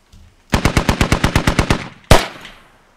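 Gunfire in the tactical shooter game Squad: a rapid burst of about a dozen evenly spaced automatic shots, a brief pause, then a single louder, sharper shot that rings out and fades.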